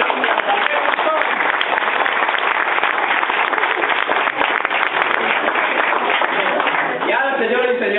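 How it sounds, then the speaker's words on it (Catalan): Audience applause for a guitarist at a school classroom event, dense and steady throughout at full volume, with voices rising near the end. "Aplaudiment per la nostra guitarrista."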